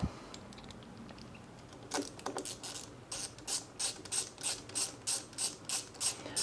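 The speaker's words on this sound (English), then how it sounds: "Tighten this guy up a little bit. Okay, we'll throw the second screws in." Screws being tightened on an optic scope mount with a ratcheting tool: a few scattered soft taps, then a steady run of close, crisp clicks about twice a second.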